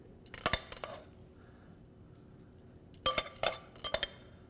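Salad of crispy potato croutons, tender eggs and tomatoes tossed briefly in a bowl, two bursts of clinking utensils against the dish separated by a quiet pause, close and fairly soft.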